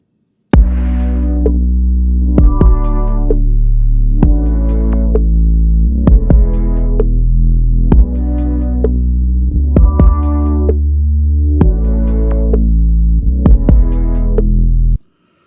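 A full two-track music loop plays with an auto filter sweeping over it: a heavy, throbbing bass pulse and tonal chords repeat in a steady rhythm, loud and alone.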